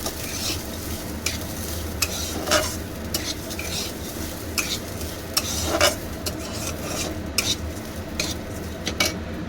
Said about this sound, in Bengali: আমি একটু নেড়ে চেড়ে ঘিটা লাগিয়ে নেবো চালের মধ্যে